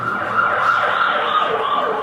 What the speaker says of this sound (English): if you were standing on the side of the road when this siren came past